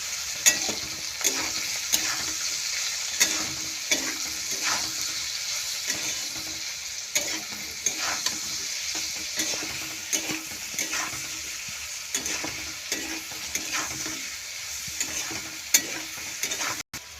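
Rice with salt frying in a pan for wedding-style fried rice, a steady close sizzle broken by regular scraping stirs of the spatula throughout, with no voices.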